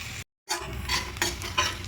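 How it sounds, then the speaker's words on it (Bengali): Grated garlic sizzling in butter with a pan of mixed vegetables, a soft close frying hiss broken by a brief silent gap, with a few stirring scrapes afterward and no talk. "এরপর দিয়ে দেবো গ্রেট করে রাখা রসুন"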